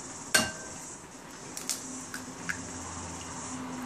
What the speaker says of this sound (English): Can you crack the egg with one hand, Jonna?